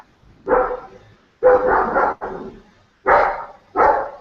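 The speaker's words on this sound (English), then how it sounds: "It sounds like there's a dog barking." A dog barks in the background in five separate bursts, some short and some drawn out, with pauses between them and no talking over it.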